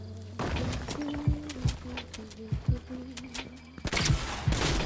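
Fortnite Chapter 4 gameplay with several heavy, spaced shotgun blasts and thuds over a low in-game hum, ending in a louder burst, with no one speaking.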